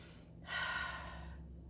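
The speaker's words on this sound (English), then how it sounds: "Take a deep breath." One slow, deep breath drawn in close through cupped hands holding essential oil, a soft airy inhale of about a second in an otherwise quiet room.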